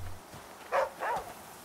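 Aesop the dog barks twice in the video game The Flame in the Flood, two short, fairly quiet yaps about a third of a second apart, with a low background hum.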